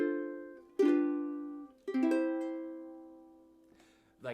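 On a keyboard, a chord turnaround that includes a diminished chord sounds as a short run of sustained chords, each swelling and decaying, ending with one more soft chord, with no talking.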